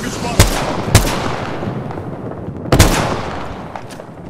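Gunfire in a combat video game: three sharp, loud shots, two close together near the start and one more after a pause, over a steady background rumble.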